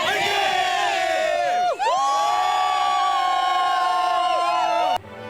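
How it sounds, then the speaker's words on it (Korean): Crowd of hikers cheering on Mudeungsan mountain at the New Year sunrise: loud, sustained shouts and whoops from many voices, with a brief dip before a second swell, then a sudden cut-off. "무등산에 오른 사람들은 호기로운 환호성으로 한 해를 시작했습니다."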